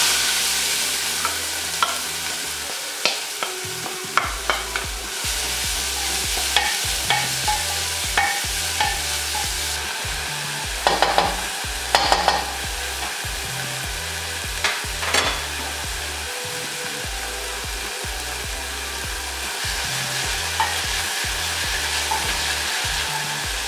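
Onions frying in hot oil and being stirred for Kenyan beef samosa filling, a constant loud sizzle with repeated scraping stir strokes throughout, no talk.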